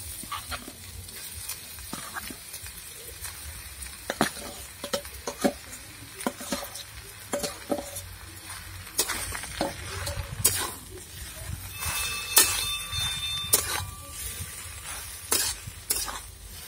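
Boiled potato filling for a chop stuffing frying in spiced oil in a pan, stirred with repeated scraping clicks over a steady low sizzle, close and moderately loud throughout.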